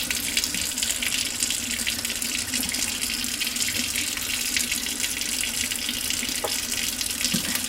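Tap water runs steadily into a sink while a bleached lace frontal wig is shampooed, a loud continuous hiss of flowing water close by, with faint handling splashes.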